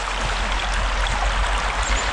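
A brook flows into a reservoir, its water rushing loudly and continuously with a dense, steady splashing roar and no voices.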